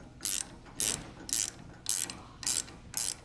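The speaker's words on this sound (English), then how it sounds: "I use a ratcheting box wrench and a regular box wrench to hold the head of the bolt." A ratcheting box wrench tightens a bolt on a roof rack bracket, giving six evenly spaced bursts of sharp metallic clicking, each about half a second apart, close and clear with no talking.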